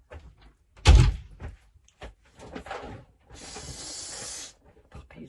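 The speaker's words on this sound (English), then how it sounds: "I'm just going to shut the door." Near the start a door swings shut with a single firm thud, followed by small rustles, a few footsteps and a sustained hiss.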